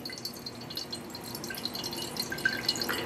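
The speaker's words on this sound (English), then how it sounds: "Here's the coconut water coming out." Coconut water draining out of a cracked coconut, a quiet run of drips and trickling liquid that grows slightly fuller toward the end, with no talking.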